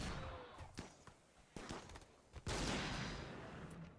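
RimWorld gunfire rings out as a series of sharp reports at irregular intervals, followed by a longer, louder burst of shots near the end.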